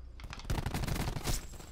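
A short burst of rapid automatic gunfire in Call of Duty, several quick shots fired in a fast run at moderate level with no talk over it.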